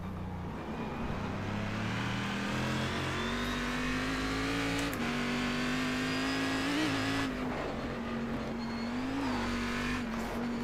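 Cadillac CTS-V.R race car in iRacing at Sonoma, its engine holding a loud, steady high drone with small pitch shifts as it revs through corners, running alone without talk.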